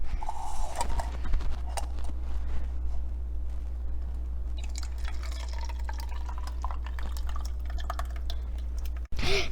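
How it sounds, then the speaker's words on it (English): Yellowish liquid from soaked iron-fortified cereal poured from a container into a cup, with soft dribbling and drip sounds over a steady low hum, ending in a sharp click. "Now let's pour it into this cup."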